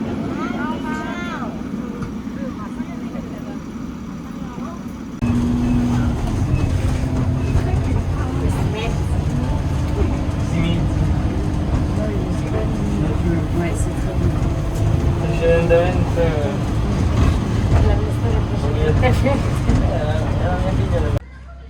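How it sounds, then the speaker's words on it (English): Bus arriving at a stop in Corniglia, Cinque Terre, gives a loud low engine rumble that starts suddenly and runs steadily throughout, with voices talking nearby over it. "So here is the bus."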